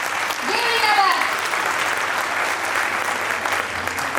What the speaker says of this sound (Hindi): तालियों से स्वागत किया